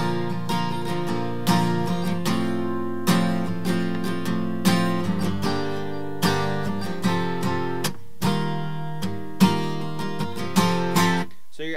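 Acoustic guitar playing the chorus of a song, steady strummed chords in an even rhythm, close and full, with no talk over it.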